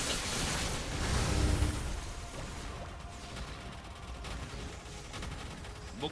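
Rapid gunfire-like bursts and explosive blasts from target robot attacks in a Maplestory boss fight, dense and continuous, loudest near the start, with a game voice mixed in.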